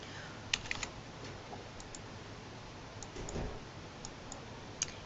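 Keyboard typing at a computer: a few scattered, faint key clicks and taps spaced across a quiet background, no voices.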